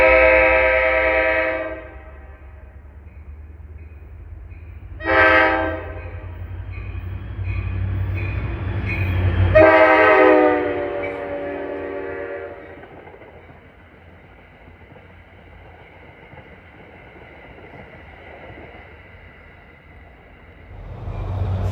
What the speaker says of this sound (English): We see the train arrive and depart Waldwick on a warm March afternoon.